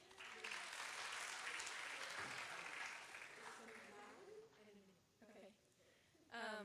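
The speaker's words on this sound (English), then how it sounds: "a big round of applause." Audience applause at an innovation program prize announcement for a winning team: sustained clapping from a crowd for about four seconds, then fading into a quieter spatter as a voice begins speaking.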